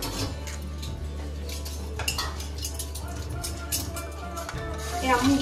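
Plates and cutlery clink and knock together as a table is set, with light repeated clatter under people talking in the background.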